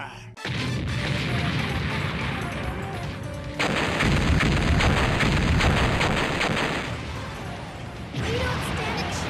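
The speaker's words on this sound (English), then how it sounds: "All port cannons, prepare to fire!" Ship port cannons firing in the Mega Man Legends video game, a sustained barrage of heavy booming blasts and crashes that swells loud through the middle and carries on steadily, with game voices briefly heard.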